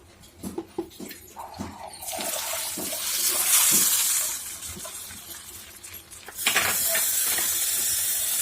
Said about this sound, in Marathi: हा जो तडका तयार केलेला आहे तो आपण ह्या सांबारमध्ये घालून घेऊया।